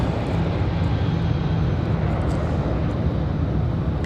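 Airplane departing Raleigh Durham International Airport, a loud steady roar of jet engines holding constant throughout, close and unbroken, with no talking.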